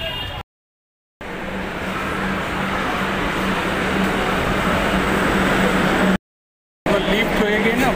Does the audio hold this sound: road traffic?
yes